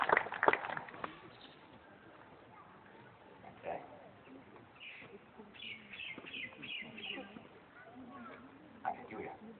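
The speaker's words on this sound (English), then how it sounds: "Birds are making noises to put me off here." Soft, repeated bird coos drift in the background while a person speaks over them, fairly faint and steady.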